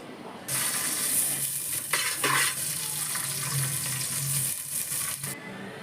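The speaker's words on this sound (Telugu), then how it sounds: "ఈ గిన్నె వేడెక్కిన తర్వాత ఇందులోకి ఒక స్పూన్ దాకా నెయ్యి వేసుకోవాలి" Steady hiss of hot ghee sizzling in a heated pot for biryani, with a few brief scraping stirs partway through and a soft low hum underneath.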